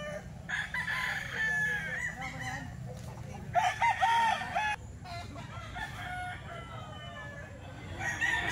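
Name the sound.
gamecock roosters crowing at a chicken market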